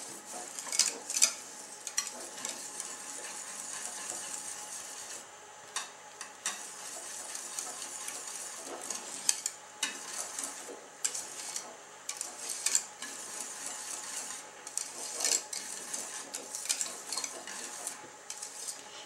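A spoon scrapes and clinks steadily against a pot as thickening chocolate pudding is stirred, with soft bubbling under repeated irregular metallic taps and no talking.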